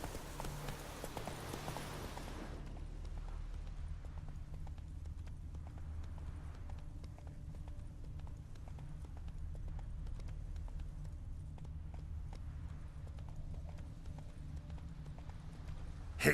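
Roach, a horse in the Witcher 3 video game, gallops with a steady rhythmic clip-clop of hooves over a low continuous rumble, after a brief burst of louder noise at the start.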